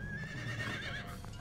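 A horse whinnies in the Lego Harry Potter video game, a high wavering neigh over a busy game soundscape, heard briefly and fairly clearly.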